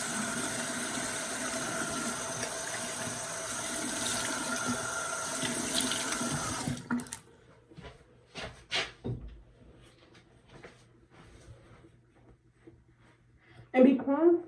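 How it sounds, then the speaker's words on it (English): A bathroom tap runs steadily into a sink for several seconds while the face is rinsed, then shuts off, leaving scattered drips and small splashes, with a brief louder clatter near the end. "I'm going to rinse my face off."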